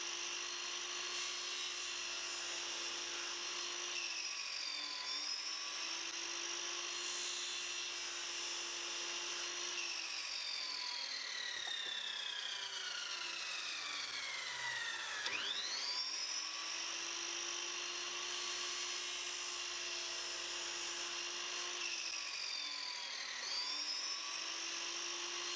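A miter drop saw cuts spline slots in a wooden box, its blade whining at high pitch throughout, with the tone dipping and rising as the cut loads and unloads the motor. The sound is close and continuous, and no one speaks.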